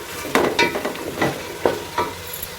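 Masala with tomatoes fries in oil while a spoon stirs and scrapes it around the pan, producing several distinct scraping strokes over a continuous moderate sizzle.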